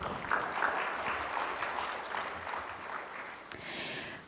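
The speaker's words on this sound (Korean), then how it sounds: "다시 한번 큰 박수 부탁드립니다." Sustained audience applause fills a conference hall at an education and AI forum, a dense, steady wash of clapping that holds at an even level throughout before easing slightly near the end.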